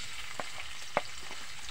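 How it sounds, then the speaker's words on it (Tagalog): Cooking oil going into a hot pan at the start of a ginataang talbos ng kamoteng kahoy dish gives a steady, soft sizzling hiss, broken by two light utensil clicks, nearby and without speech. "Lagay kami ng mantika"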